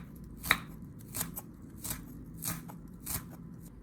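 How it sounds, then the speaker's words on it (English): A knife chops scallions on a cutting board in about six spaced, crisp strikes, close and moderately quiet, with a slight crunch on each cut. "For the scallions, cut off the white part and chop it finely."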